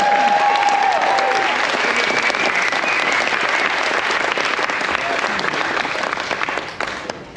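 Loud, sustained applause from a large crowd aboard a cruise ship fills the whole clip, with a brief whistle early on, fading slightly at the end.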